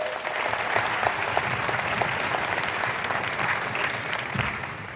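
An audience claps together in sustained applause, a dense, even wash of hand claps that holds steady for several seconds before easing slightly at the end.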